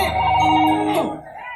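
A mobile phone rings with a bright electronic tone, loud and close, sustained for about a second before tapering off.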